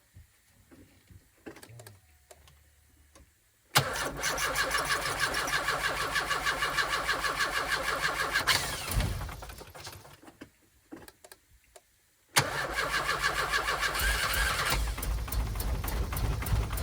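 A Rover 220 coupé engine, with water suspected in the spark plug wells, cranks loudly in long steady runs, stopping briefly between attempts without catching, close and alone.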